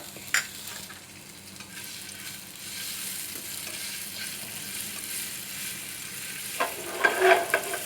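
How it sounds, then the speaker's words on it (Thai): Fresh chilies pounded with garlic stir-fry in hot oil in a wok for a mussel dish, a steady close sizzle with scraping stirs and a louder crackling burst near the end. "พอร้อนเราก็ใส่พริกสดลงไปเลยครับ"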